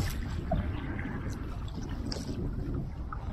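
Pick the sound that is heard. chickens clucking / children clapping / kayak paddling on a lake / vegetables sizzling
kayak paddling on a lake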